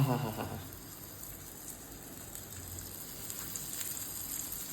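Bangda (mackerel) fish frying Malvani style in plenty of oil on a hot tawa, a steady close hiss and crackle with a brief louder splash of sizzling at the start.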